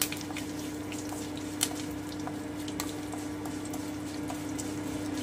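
Spices frying in a pan for South Indian coconut chutney over lowered heat: a steady, soft sizzle with small crackles and pops throughout, no talking.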